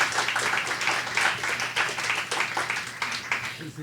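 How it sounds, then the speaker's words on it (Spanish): An audience at a cultural talk applauding, a moderate, steady patter of many hands clapping heard from a short distance, continuing evenly for a few seconds. "aplauso"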